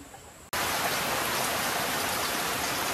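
Rain begins abruptly and then pours steadily, a dense even hiss of drops on surfaces, loud and close, with no voices.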